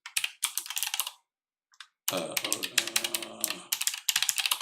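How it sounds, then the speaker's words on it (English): Keys clatter on a computer keyboard as a passphrase is typed, quick close bursts of clicks broken by a short pause, with a voice speaking over part of the typing. "Type my passphrase in."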